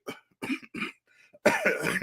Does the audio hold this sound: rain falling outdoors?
no